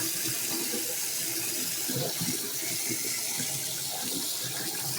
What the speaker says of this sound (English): I'm going to have either 7 to 8 minute long videos just for rinsing out this little tiny bottle.